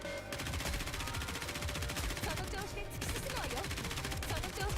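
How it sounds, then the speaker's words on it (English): Rapid machine-gun fire from the Nikke: Goddess of Victory shooter game, a dense continuous rattle of overlapping shots with gaming effects over a steady, fairly loud background. "I fucking love seeing the machine guns work in this game."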